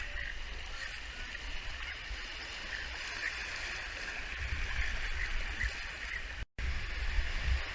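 Water on a Canadian Rockies river, heard as a steady broad rushing wash, fairly loud and continuous throughout, with a short dropout near the end and no talk.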